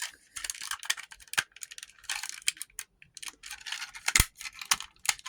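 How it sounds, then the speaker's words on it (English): Plastic parts of a Transformers Generations Prowl toy snap and click into place as it is folded, making a rapid, close series of crisp clicks and rattles in short irregular bursts. "Everything clicks in really nice."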